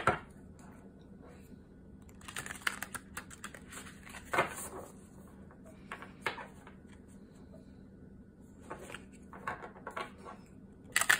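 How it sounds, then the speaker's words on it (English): An oracle card deck is shuffled by hand in soft, quiet bursts of riffling and slapping cards, with pauses between, close and faint. "let's see how this deck shuffles"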